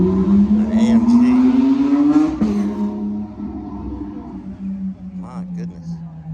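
Mercedes-AMG 4.0-litre V8 in a GT S, heard at an outdoor car gathering: a loud, rising engine rev that climbs for about two seconds, then settles to a steady lower drone, with people talking over it.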